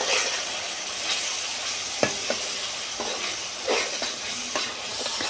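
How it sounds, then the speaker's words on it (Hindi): Masala with tomatoes fries in a pan with a steady broad sizzle, while a spoon scrapes and stirs in several irregular knocks and strokes, close and fairly loud. "टमाटर को 5 मिनट तक भून लेंगे ताकि अच्छे तरीके से गल जाए।"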